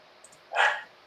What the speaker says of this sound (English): That dog not happy.